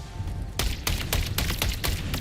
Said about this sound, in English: First person shooting.